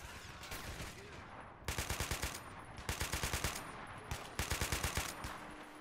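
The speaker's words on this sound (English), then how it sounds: "Oh, you're taking so much fire." Video game gunfire during an ambush on a Russian convoy: repeated rapid machine-gun bursts in evenly spaced volleys, each a string of sharp cracks, with quieter pauses of ambient noise between them.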